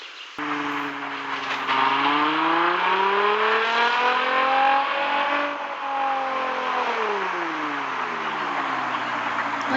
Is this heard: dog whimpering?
no